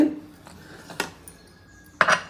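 A few metallic clanks and clinks as a lid is set onto a pressure cooker of goat leg soup, spaced apart, with a louder clatter at the end.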